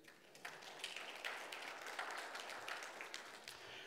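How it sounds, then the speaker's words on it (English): Congregation clapping at a Sunday worship service, a steady wash of many hands applauding together at moderate distance for a few seconds, with no talking over it. "So give yourself a hand clap"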